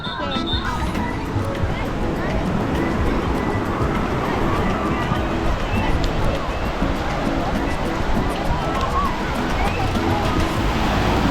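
Surf washes steadily along Coney Island beach, a broad continuous rush of waves mixed with crowd babble from nearby beachgoers, loud and close, with people talking throughout.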